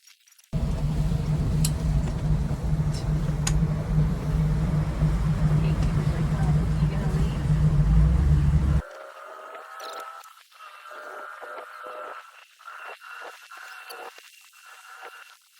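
A boat on Lake Okeechobee cruises on a single outboard motor, a steady close rumble for most of the stretch, then dropping to a quieter hum with wind as people talk over it.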